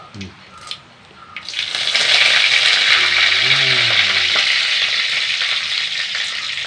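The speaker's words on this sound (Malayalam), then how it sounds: "ഇപ്പോൾ കടുകേണ്ട പൊട്ടുണ്ട് കടുക് പൊട്ടട്ടെ" Mustard seeds popping and sizzling in hot oil, a loud continuous hiss with scattered crackles that builds after a quiet start and stays close and steady, with a few utensil clinks early on.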